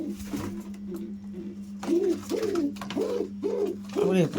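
Several pigeons kept in a loft, including a nesting pair, coo repeatedly in a series of rising, rhythmic calls close by, with a steady low hum running underneath.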